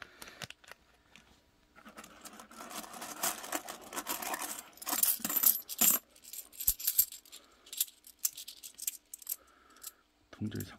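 Kennedy half dollar coins from unopened US Mint rolls clink and jangle in irregular, close bursts. The metallic clatter builds in the middle of the clip, and a few soft thumps come near the end.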